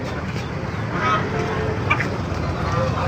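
Poultry at a Baliuag, Bulacan chicken market make scattered clucks and squawks over a busy crowd murmur, with voices talking nearby.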